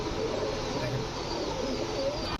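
Pigeons coo softly in a loft of fancy and racing birds, their low murmuring steady throughout under a constant background hum, with a brief knock near the end.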